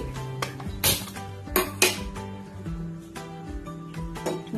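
A pot of water is set down on a gas stove, several metallic clanks and clinks of cookware at irregular intervals, close and moderately loud, with no talk.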